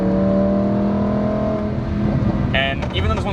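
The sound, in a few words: Lamborghini Huracán Evo V10 supercar accelerating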